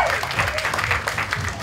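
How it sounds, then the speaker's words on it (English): Crowd applause for the queen crowned at a courtyard cosplay contest, brief continuous clapping with a voice heard under it. "How about a round of applause for our Queen at the Courtyard Cosplay"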